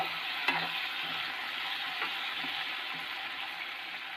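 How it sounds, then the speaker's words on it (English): Tomatoes and spices for a red chutney sizzle steadily in a pan, a close, even frying hiss with a few faint stirring clicks. "So after adding the tomatoes, we have to fry for 2 to 3 minutes."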